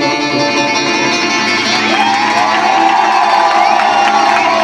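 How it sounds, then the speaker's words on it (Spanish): An audience at an acoustic concert in Santa Ana de Pusa cheers and whoops loudly and steadily, with a dense crowd roar and high-pitched shouts throughout. "Un aplauso, por favor."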